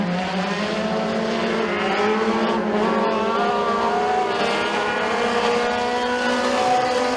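Several race cars in a dirt track heat race at McKean County Raceway drone loudly and continuously, layered engine tones rising and falling as they run side by side through the turns, with no talk.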